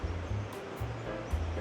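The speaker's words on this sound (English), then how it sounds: "We have a river running through the complex, so you can hear the ambient of the river." A river running through a residential apartment complex in Medellín gives a steady, moderate wash of flowing water, a continuous low rushing murmur with no break across the short span.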